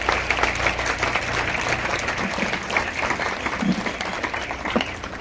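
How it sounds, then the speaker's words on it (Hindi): An audience of students at a speaking event bursts into sustained applause, a steady wash of many hands clapping that holds evenly for the whole stretch. "एक बार इस यहाँ के मैनेजमेंट के लिए एक बार जोरदार तालियां बजाइएगा"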